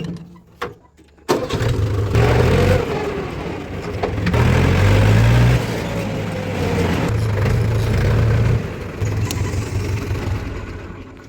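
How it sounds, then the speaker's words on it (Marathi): A farm tractor's diesel engine cranks and catches after a brief quiet moment, then settles into a steady close, loud idle with some revving swells for the rest of the stretch. "जाऊया ट्रॅक्टरवर."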